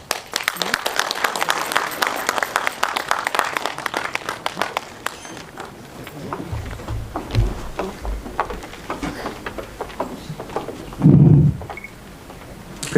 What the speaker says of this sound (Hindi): एक बार जोरदार तालियों से सभी लोग स्वागत और अभिनंदन में सहयोग करेंगे और उत्साहवर्धन करेंगे।